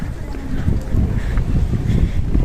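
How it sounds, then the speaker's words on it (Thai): Wind blows steadily outdoors at night under moonlight while someone collects bottles, a continuous low rushing roar buffeting the microphone, with no clear speech. "แล้วสายลมที่พัดมา จะบอกได้เลยนะคะว่า เย็น สบาย"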